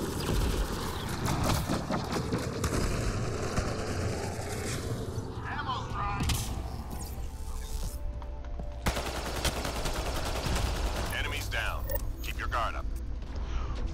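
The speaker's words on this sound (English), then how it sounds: "And this new assault rifle," Bursts of X5 Ghost assault rifle fire in Apex, rapid rattling shots mixed with mechanical game sounds while someone talks over much of it.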